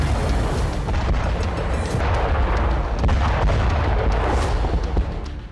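Blasts from a Storm Shadow missile strike on a Russian air-defence base in Crimea, a dense, continuous roar of rumbling explosions and crackling bursts that stays loud throughout.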